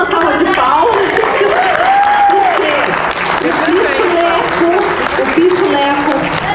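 An audience applauds continuously at a congressional gathering of activists, a loud, dense wash of clapping throughout while a voice talks over it.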